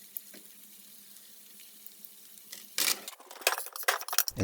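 Pork cutlets are laid into preheated hot oil in a pan for tonkatsu, and after a quiet start the frying erupts into loud, crackling sizzling that spits and pops.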